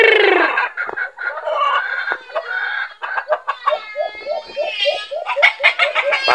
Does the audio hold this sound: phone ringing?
no